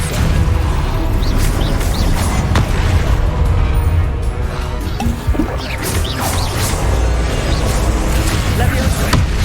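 Spell cast in the Hogwarts Legacy video game, a loud dense barrage of crashes, booms and impacts lasting the whole stretch without a break.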